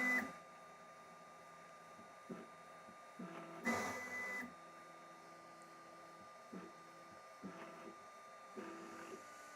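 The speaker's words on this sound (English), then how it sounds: "the printer isn't very silent" Sovol SV08 3D printer running with a steady, fairly loud motor whine and hum, broken by short stepper bursts and louder movement noises at irregular intervals; no talking.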